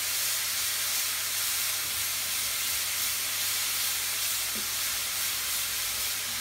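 Ginger paste frying in hot oil gives off a steady, even sizzle and hiss that holds at one level throughout, close and unbroken, with no voices.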